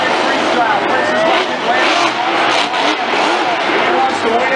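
A monster truck engine roars and revs hard during a freestyle run at Monster Jam in Tampa, loud and sustained over an arena crowd, with an announcer talking over it.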